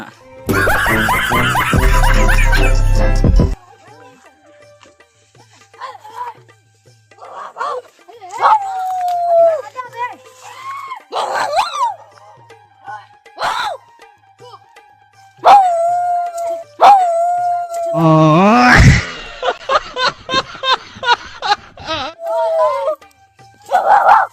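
Dogs bark in bursts and let out drawn-out howls, with a loud blast of noise at the start and a rapid string of barks later.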